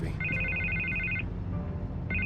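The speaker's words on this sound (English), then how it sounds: "I can't get the phone to stop ringing." A telephone rings in the Batman Telltale Series video game, its electronic trill repeating in a long burst, pausing, then starting again over a low game background hum.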